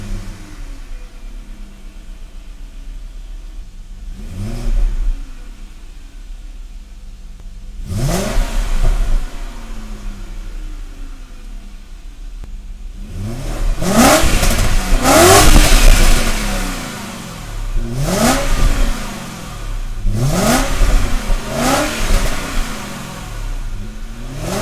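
Refitted silencer on a BMW 535ia engine, revved in a series of sharp blips that rise and fall, several quick bursts close together, loud and near with no talk.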